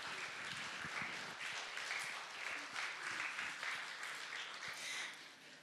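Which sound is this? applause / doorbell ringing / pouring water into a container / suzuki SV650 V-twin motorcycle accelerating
applause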